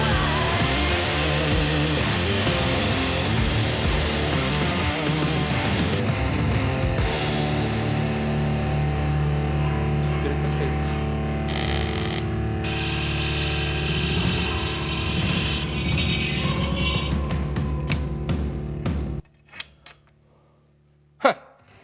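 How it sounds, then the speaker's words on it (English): A power tool cuts a slot in a Damascus steel Viking sword guard, a loud, continuous grinding whine that holds for nearly twenty seconds before cutting out, leaving a few faint clicks. "now cutting the slot."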